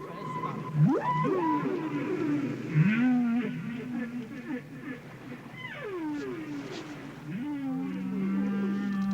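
Humpback whale song from an old tape recording: long sweeping moans and rising, falling cries, some swooping up sharply and others holding low drawn-out tones, sounding alone against a steady hiss of underwater background.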